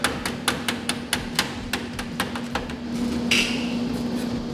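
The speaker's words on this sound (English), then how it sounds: "you may have to take your hammer, just kind of clean up this corner a little bit" Hammer tapping steel ceiling trim at a corner, a quick series of sharp metallic taps close by, spaced irregularly, then a brief scrape and quiet hum.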